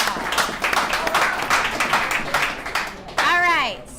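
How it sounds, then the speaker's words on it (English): A small group at an addiction-recovery alumni meeting gives a round of applause, with steady, moderately loud hand clapping lasting a few seconds before a voice cuts in near the end. "Let's give ourselves a round of applause."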